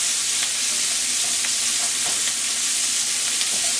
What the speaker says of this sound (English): I'm just going to saute this for a bit, just to have the juices come through.